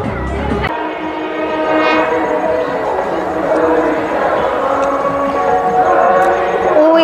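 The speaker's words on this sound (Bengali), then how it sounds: "আর এই ওপর থেকে ব্রিজের ওপর থেকে ট্রেন যাচ্ছে।" A train rumbles across a bridge overhead near a river at Khirai, its steady roar loud and continuous, with horn-like tones sounding throughout.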